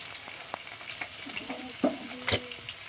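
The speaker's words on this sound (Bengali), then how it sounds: "আর দুটো মাছ বাকি ছিল দুটো মাছ ভাজছি" Tilapia fish fry in oil in a home kitchen, giving a soft, faint sizzle with scattered crackles and pops. Clearer clicks and spatters come about two-thirds of the way through, and no one speaks.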